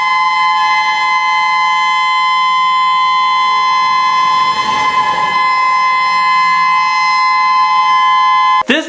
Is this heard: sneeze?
no